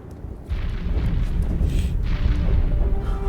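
Explosion in Star Wars: The Clone Wars, a loud sustained rumbling blast that swells after a brief quiet start and keeps roaring with debris-like noise.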